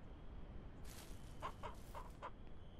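Four short clucks from chicks in the farming video game Ranch Simulator, evenly spaced and fairly faint over a low background hum.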